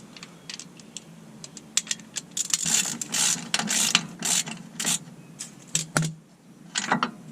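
A ratchet working a bolt free from a torque strut mount on a 2004–2009 Kia Spectra, bursts of rapid close clicking in uneven runs with short pauses between strokes.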